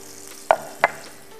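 Tofu slid into hot oil in a pan for a spicy mushroom-sauce dish, giving two sharp, brief sizzling bursts about a third of a second apart over a faint steady background.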